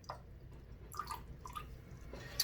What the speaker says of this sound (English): So I'm just going to dunk that in my distilled water here. Give it a little dunk, wring it out